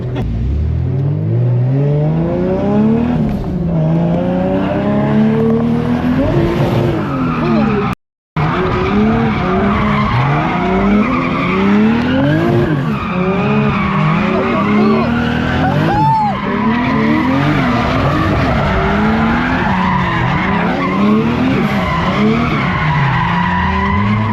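Tires screech and squeal continuously over a roaring, revving car engine as a car drifts at a drift event. The sound is loud and sustained, with one brief dropout.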